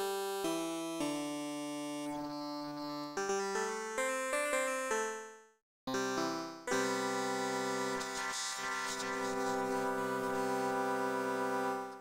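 A vocal sample played as tones in an Ableton Wavetable synthesizer, sustained pitched notes stepping in a rhythmic sequence, a brief drop to silence midway, then a denser, brighter held texture, clear and alone.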